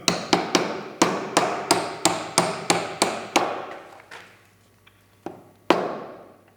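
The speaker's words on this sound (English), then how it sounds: "give it a little hammer" Sharp hammer blows tapping a wooden domino through a sizing hole: a quick, steady series of about a dozen taps, each ringing briefly, then a pause and two more isolated strikes.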